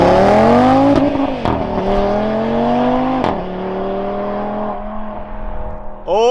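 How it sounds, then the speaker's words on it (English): Audi RS3 fitted with an AWE exhaust accelerating hard, loud and close, with rising engine tone broken by quick gear-change dips and a snarling five-cylinder note throughout. "if you have an Audi RS3, first off, get the AWE exhaust, 'cause that sounds incredible."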